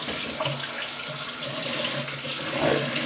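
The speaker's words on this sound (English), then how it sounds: "And rinse your blade off." Tap water runs steadily into a sink while a safety razor blade is rinsed under it, giving a continuous close splashing hiss with small shifts in the flow.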